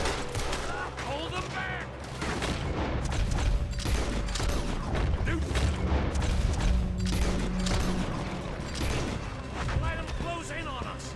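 Dense, continuous gunfire from the video game Red Dead Redemption 2, with rapid volleys, booms and mechanical clatter in a loud shootout, while a game voice shouts over the noise.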